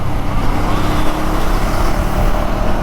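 Motorcycle engine running in fourth gear at around 4000–5100 rpm after its first service and an ECU update, a steady, loud continuous drone with no breaks across the whole stretch.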